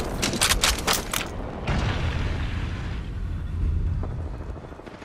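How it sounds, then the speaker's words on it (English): A thermite grenade bursts in the battle-royale shooter Apex Legends, with a quick cluster of sharp cracks followed by a deep, rumbling roar of burning that fills the rest of the moment, loud and close with no talking. "Throwing thermite grenade."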